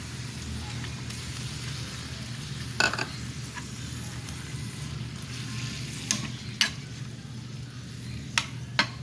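Chicken liver sizzles steadily in a pan for Filipino adobong atay, with a few sharp scrapes and clinks as it is stirred, no talk.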